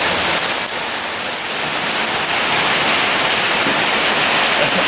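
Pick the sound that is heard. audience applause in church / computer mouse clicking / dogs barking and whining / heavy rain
heavy rain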